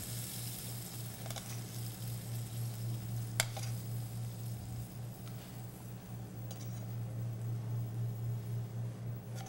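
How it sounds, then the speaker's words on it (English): Raisin sauce is spooned over filet mignon as a steady low sizzle hums underneath, with a few faint clicks and scrapes of a spoon against the pan. "Anyways, you spoon the sauce over it."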